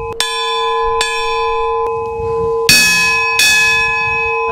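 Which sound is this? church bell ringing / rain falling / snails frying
church bell ringing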